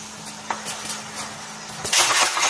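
Masala paste of ginger, garlic, poppy seeds and coconut with turmeric and salt fries in oil in a pan, a few soft utensil scrapes and clinks over low sizzling before a louder burst of frying near the end.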